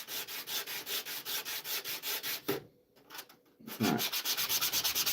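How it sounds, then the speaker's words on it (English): Wood block rubbed flat on sandpaper in a workshop, a steady rhythmic scratchy back-and-forth stroking, close and loud, pausing briefly in the middle before resuming; a few words spoken during the gap. "I'm also gonna have this flat piece of wood with sandpaper on"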